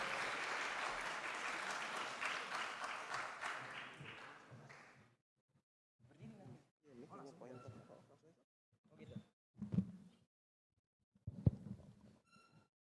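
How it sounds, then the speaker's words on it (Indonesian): Applause from an audience welcoming a speaker at an ITB student event, steady and fairly loud for about five seconds before fading, followed by scattered talk, rustles and thumps. "mari kita beri tepuk tangan yang cukup meriah untuk Kak Mahdi"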